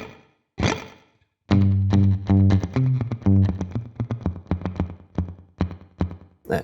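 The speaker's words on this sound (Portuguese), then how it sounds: "o reverb de sala é só para dar uma sala mesmo, uma ambiência a mais" Clean electric guitar through a Valeton GP-5 with short room reverb: a single struck chord, then a run of plucked notes and chords ringing with light ambience, loud and alone.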